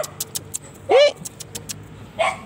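A dog gives a short bark or yelp, then another a little later, with light clinking and jangling in the background.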